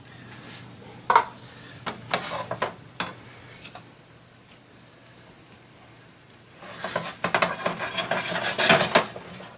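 Sausage and canned pizza sauce are mixed in a pan. A spoon clinks and scrapes against the pan in irregular taps, goes quiet midway, then returns in a busier, louder run of stirring.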